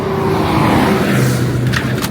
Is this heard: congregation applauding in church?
no